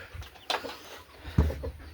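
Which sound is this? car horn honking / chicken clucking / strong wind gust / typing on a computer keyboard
chicken clucking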